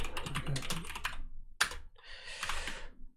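Rapid typing on a computer keyboard while writing a Linux shell backup script, close and clear, in quick bursts with a sharp single keystroke and short pauses between runs.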